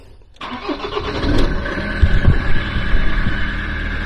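A Ford Transit Mk7 van engine cranks after a brake bleeding procedure, catches, and settles into a loud, close idle rumble.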